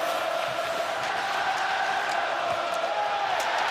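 An arena crowd at a Stanley Cup playoff hockey game between the Avalanche and the Stars lets out a sustained, rising roar of protest, a loud dense wall of voices with scattered shouts.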